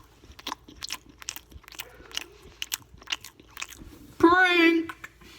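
Close biting and crunching on a grilled cheese sandwich, several soft crunchy chews followed by a louder crackly bite near the end, with a voice heard around them.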